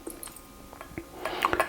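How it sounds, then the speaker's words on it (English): Thick, dark imperial stout beer poured into a tulip glass, with soft glugging and dripping, then a brighter splashing burst of liquid near the end, quiet and close. "I am using my tulip glass for this. Let's give it a pour."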